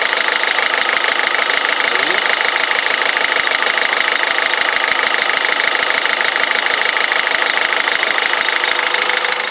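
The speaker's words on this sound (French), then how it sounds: "dès que je désactive le mode écho on entend le turbo" A 1.6 HDi diesel car engine drones steadily while driving with eco mode off, with a rough, rapid pulsing and a persistent whooshing turbo hiss throughout, loud and close.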